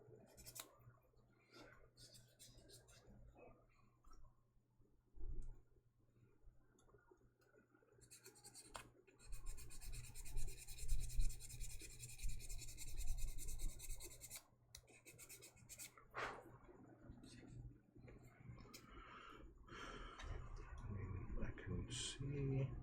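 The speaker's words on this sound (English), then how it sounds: "And then let's file again." Filing a small plastic part after 400 grit sanding, intermittent close scratchy rasping strokes in uneven bursts with pauses, quiet and alone with no voices.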